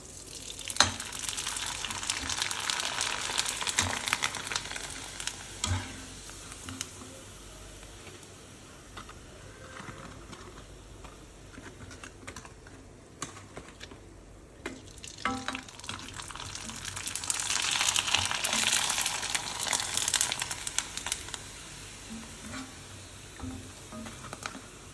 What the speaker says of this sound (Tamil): இலை வடாம் போட போகிறேன் எண்ணெயில்